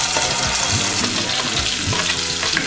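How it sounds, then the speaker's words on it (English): Chopped onions sizzle in a stew pot over low heat, a steady close crackle and hiss lasting a few seconds, with faint clinks of stirring. "You can now put the onions inside the pot, like so."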